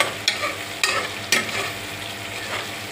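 Onions sizzling in hot oil in a pan, with three sharp stirring scrapes early on over a continuous frying hiss.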